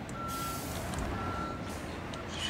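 Truck reversing beeps from Construction Simulator 22 during asphalt removal road-repair work, a steady tone repeating over a loud, continuous engine rumble.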